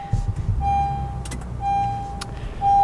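A pickup truck engine starts up from inside the cab, with repeated electronic chime tones over a low idle rumble that swells near the end, with no talking.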